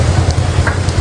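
Steady heavy rain pours down outdoors, a dense loud hiss of drops close by with low rumbling texture and no voices.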